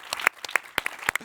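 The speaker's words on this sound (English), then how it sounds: "I think Ash deserves a round of applause for doing such an amazing hosting job as well." A handful of people clap for a podcast host, a few sparse, distinct claps at close range over about a second.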